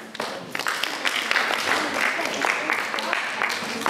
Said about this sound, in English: Give a clap to yourself.